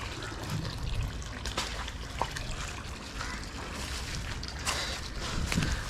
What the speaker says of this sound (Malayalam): വെള്ളം